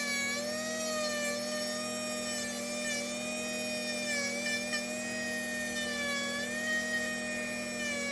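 A rotary burr grinds a fungus-affected toenail, giving a steady high-pitched whine with a constant motor hum underneath, held evenly and close throughout with no talking.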